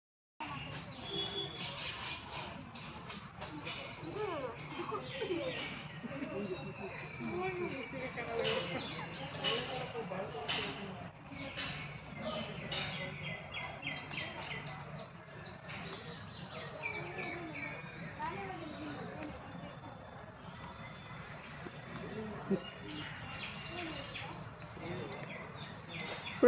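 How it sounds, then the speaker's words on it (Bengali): Many birds chirp and call outdoors in a sunny natural setting, a dense chorus of twitters and trills at moderate distance, steady throughout with insect-like buzzing underneath. "প্রচুর পাখির আওয়াজ"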